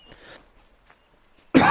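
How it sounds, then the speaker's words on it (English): A single sharp, loud cough bursts out at the end after a stretch of faint, quiet background. "Sorry for the coughing."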